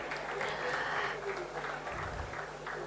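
An audience applauds to welcome the national coach of the Indian badminton team at a motivational session, a steady, fairly soft wash of clapping that carries on through the whole moment.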